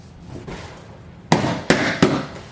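Three balloons pop sharply and loudly in quick succession, spaced roughly half a second apart, following quieter rustling and faint background sounds.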